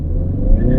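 A Ford Mustang with the smaller engine accelerates hard from a dead stop, its loud low engine roar rising steadily and close, with the air conditioning off.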